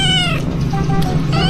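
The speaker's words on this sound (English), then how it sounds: "I have two cats." Two pet cats meowing close by at home, with drawn-out cries at the start and again near the end over a steady low background hum.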